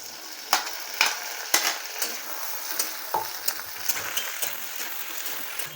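Potatoes fry in sautéed onion masala with a continuous moderate sizzle, punctuated by repeated sharp scrapes and taps of a spoon stirring the pan at roughly regular intervals.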